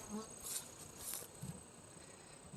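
Bees around a porch hive give a faint, steady insect hum, with a few brief louder buzzes passing close by against quiet outdoor background.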